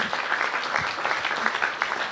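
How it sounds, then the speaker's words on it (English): At a DC bill signing ceremony, an audience applauds an at-large council member, a steady mass of clapping hands, moderately loud and unbroken from start to finish. "Give him a round of applause."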